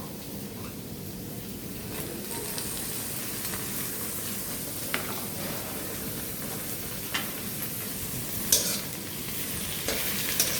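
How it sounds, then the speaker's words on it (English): Tomatoes and spices for butter chicken frying in a pan, a constant close sizzle with occasional light scrapes and taps from stirring, steady and unbroken, with no talking. "I'll fry it for 2 minutes."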